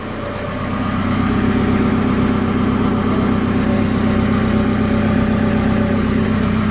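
A 2007 car engine idles steadily right after a cold start, soot puffing from the exhaust; a close, continuous low hum with a slight rise at the start, no talk.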